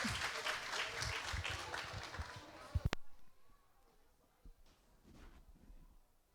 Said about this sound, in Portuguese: Uma bater palmas para o chefe Pedro Marques.